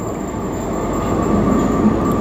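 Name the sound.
inside a moving metro train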